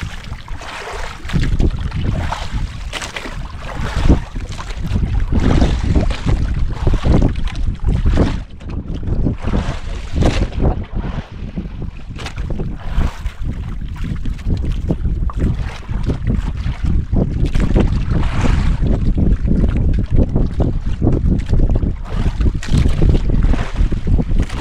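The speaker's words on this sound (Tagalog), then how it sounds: "Magalaw na talaga ang bangka, maalo na talaga." A boat rocks and slaps on choppy water, with loud continuous wind rushing over the microphone and water splashing throughout.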